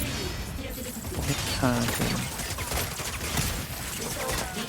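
Mechs trade dense, rapid gunfire in the Mecha Break video game: crackling bursts and impacts with metallic clanks, loud and continuous, while a player talks over the action.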